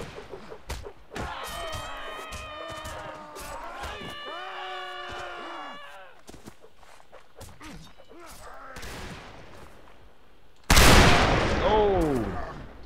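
Carbine shots in a Napoleonic-era medieval battle game, sharp cracks scattered among musical tones and clatter, ending with a loud burst of battle noise.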